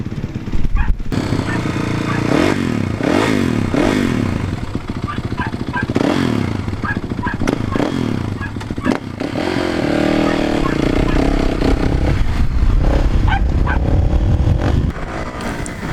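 A Kawasaki KX 450F dirt bike engine runs close by, loud and steady, with several sharp revs climbing and falling in the first half before settling into a rough, continuous drone.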